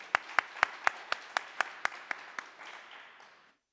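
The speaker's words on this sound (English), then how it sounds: "Another round of applause for fun." Applause from an audience at a SecDSM security meetup: about ten sharp, evenly spaced claps stand out in a steady rhythm, then thin into a softer patter that fades to silence.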